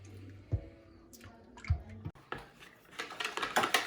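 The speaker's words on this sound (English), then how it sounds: "So we're gonna keep stirring." Milk heating in a pot is stirred, with soft scraping, a few dull knocks of the utensil against the pot and faint wet swishes, close and quiet.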